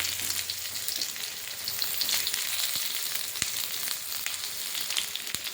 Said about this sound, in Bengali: এইভাবে ভাজা ভাজা করে নিয়েছি। এবার দিয়ে দেবো পেঁয়াজ,